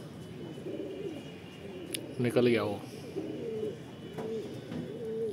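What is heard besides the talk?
pigeons cooing as they land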